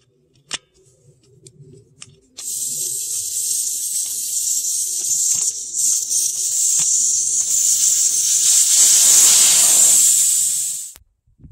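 Air hisses steadily out of a tire once the valve stem core is pulled with a valve stem remover, a loud continuous rush lasting several seconds before cutting off, preceded by a few small clicks.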